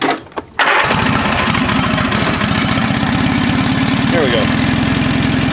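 A small tractor engine cranks briefly, catches and settles into a loud, steady rattly idle close by, with a person speaking briefly at the start.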